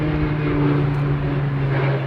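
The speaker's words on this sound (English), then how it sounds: "sorry, there's a plane going over" A plane passes overhead at a spring carp-fishing lakeside, a steady droning engine hum with a low tonal whine, continuous and moderately loud throughout with no talking.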